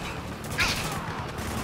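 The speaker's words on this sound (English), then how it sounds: "Taking heavy fire!" Rapid gunfire from Spec Ops: The Line combat crackles steadily through a dense, busy mix, with one sharper burst standing out partway through.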